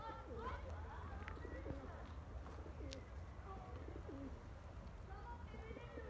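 Pigeons coo outdoors during an evening flight session with young birds. Soft, low, repeated coos and a few brief chirps rise over a steady, faint background rumble.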